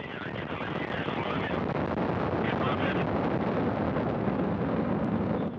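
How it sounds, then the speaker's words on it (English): A rocket launches the 65th Progress resupply vehicle from Baikonur, a loud, steady, broadband roar that rumbles on without a break. "We have liftoff of the 65th Progress resupply vehicle"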